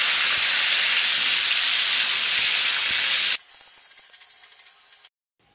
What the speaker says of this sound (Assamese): যিখিনি পনীৰ মই বনাইছিলোঁ সেইখিনি পনীৰ এতিয়া মই অলপমান ভাজি লৈছোঁ